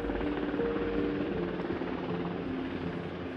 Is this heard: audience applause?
no